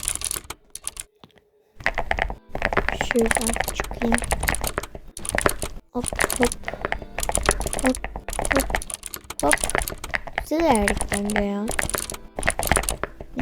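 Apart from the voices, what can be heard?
keyboard key clicks in a video game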